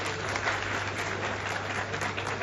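A crowd applauds Seematai Hire, the MLA, at a dome inauguration by the Renukamata temple in Radhakrishna Nagar, Nashik: dense, steady clapping that fills the whole stretch at moderate loudness, with a low hum underneath.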